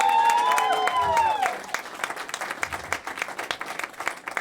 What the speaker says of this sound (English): Give him a big round of